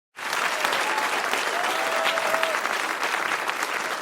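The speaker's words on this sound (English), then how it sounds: "A ripple of quiet applause spread through the crowd" Steady crowd applause begins abruptly and continues evenly throughout, a dense wash of many hands clapping at moderate volume with no talk.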